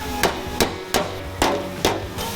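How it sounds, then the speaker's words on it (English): Five loud metallic hammer taps with a dolly on car body panel metal, evenly paced with brief ringing after each strike, close up with no talking. "I'm gonna grab my hammer and dolly"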